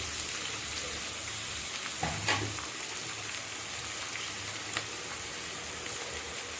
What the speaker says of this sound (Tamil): நல்லா வதங்கட்டும். உப்பு வெங்காயம் வதங்குறதுக்காக.